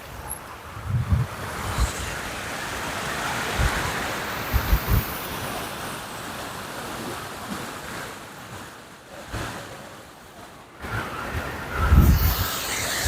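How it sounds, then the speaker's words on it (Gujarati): Kundi waterfall in Kutch, a stream of water tumbling down rocks, gives a steady, broad rushing roar, with wind buffeting the microphone and a few louder surges throughout. "આ જોઈ લો આપ સુંદર મજાનું ઝરણું"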